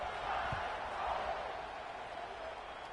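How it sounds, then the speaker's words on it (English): A football stadium crowd at an LSU versus Alabama game buzzes after a score, a faint, steady, distant roar of many voices with no clear peaks. "this crowd is buzzing after that last score"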